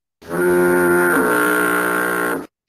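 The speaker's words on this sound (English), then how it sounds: "a foghorn sounds like this" A single deep, sustained foghorn blast, loud and steady for about two seconds, then cutting off abruptly.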